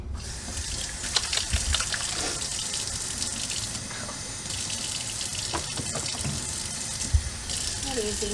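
Tap water runs steadily into a sink while a small animal is washed, a continuous gush with a few clinks and splashes, close by, with a brief voice heard over it.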